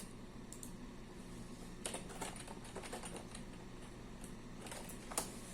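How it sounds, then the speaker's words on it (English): Quiet bursts of typing on a computer keyboard come in short irregular runs of clicks and pauses, close by and fairly faint, while someone sets up a TypeScript project. "typing in the wrong spot"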